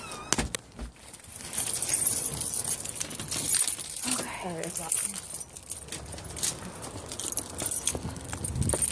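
Keys jangle and clink in a hurried search for the right car key amid street unrest in Baltimore, a steady metallic rattle running through most of the clip, with people talking nearby.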